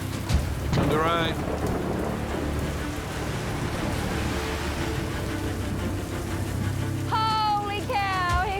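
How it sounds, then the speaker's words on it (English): Heavy rain pours steadily with thunder rumbling low beneath it, loud and continuous; a few brief voices or squeals break through at the start and near the end. "Holy cow, here comes the rain."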